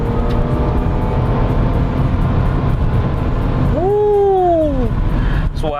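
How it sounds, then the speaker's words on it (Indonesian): The 2500 cc 24-valve SOHC V6 of a front-wheel-drive automatic Mitsubishi Galant runs loud and steady, a dense low rumble heard close by, with a brief rising-and-falling whine near the end. "Suara mesinnya asik"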